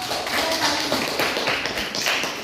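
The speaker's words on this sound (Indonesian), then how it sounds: "Tepuk tangan dulu" A class of students claps hands together in a classroom, a dense, steady patter of clapping lasting a couple of seconds, close and fairly loud.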